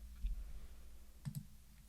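A few soft computer mouse clicks while working in Adobe Photoshop, faint isolated taps in a quiet room, a pair close together near the middle.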